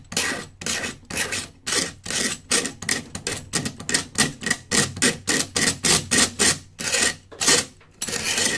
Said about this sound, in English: Drag it away from you so it scrapes down.